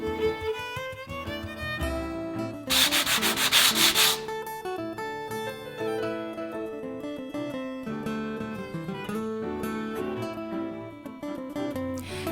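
A brief burst of rough, rasping sanding along the top edge of cedar-strip canoe gunwales, lasting about a second, rises over loud tonal music that plays throughout.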